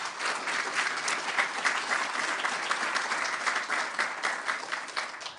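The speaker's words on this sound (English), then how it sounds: "donner une petite main d'applaudissement pour les députés" An indoor audience at the 2016 Order of New Brunswick ceremony applauds the MLAs, a sustained wash of many hands clapping at even volume, fading slightly at the end.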